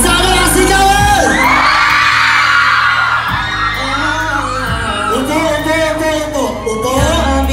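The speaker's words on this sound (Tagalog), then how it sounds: "Isa na lang sigawan!" A live concert crowd shouts and cheers loudly and continuously, with repeated bursts of whooping and yelling rising and falling over amplified sound.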